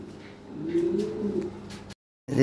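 A Lahore pigeon gives a low, throaty coo close by, a single rolling phrase that swells and fades, followed by a brief break before a fresh sound starts.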